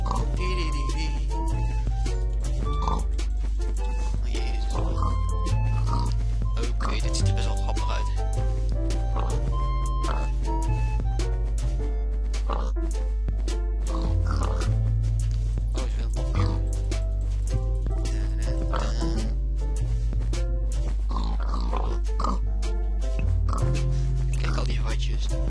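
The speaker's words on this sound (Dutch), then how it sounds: "Ik heb een leger van varkens." Pigs in the Minecraft video game oink repeatedly over dense, continuous game music while a person talks throughout.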